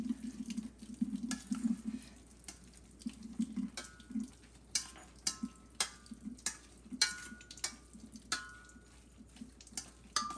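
Whey from organic goat cottage cheese trickles and drips into a bowl in a quiet, close, uneven series of small splashes. Occasional soft stirring clinks join the drips, and no one speaks.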